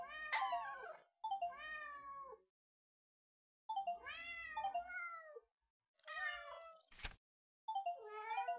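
A cat meows repeatedly in Rome, five close, clear rising-and-falling cries separated by short silences, with a sharp click between the last two.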